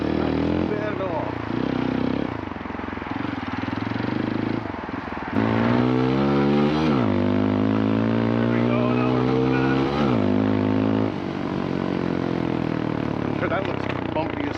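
A CF Moto Papio CL motorcycle climbs a steep off-road hill, its engine loud and close, revving up and down in pitch as the throttle opens and eases.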